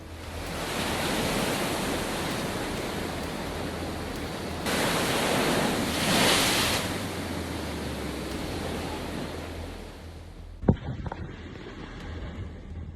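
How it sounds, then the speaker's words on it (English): Huge waves from Cyclone Gulab crash against the Andhra Pradesh coast in a continuous loud roar of surf and wind, swelling midway and then dropping to a sharp thud and quieter noise near the end. "Andhra Pradesh, huge waves hit the coast,"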